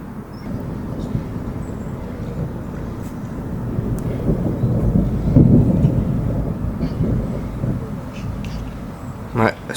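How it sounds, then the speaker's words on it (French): Thunder rolls through a summer thunderstorm in Bordeaux, a long low rumble swelling toward the middle and fading, with someone speaking over it. "Et les éclairs ils tombent juste au-dessus de mon crâne."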